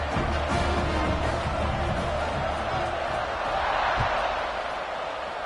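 Steady roar of a stadium crowd in a football video game after a touchdown drive, a dense continuous wash of cheering at a constant level with a faint commentator voice underneath.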